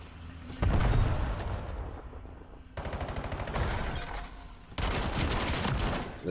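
Rapid gunfire in bursts and grenade blasts from a competitive multiplayer shooter match in tournament bracket play, loud and dense with brief pauses between volleys.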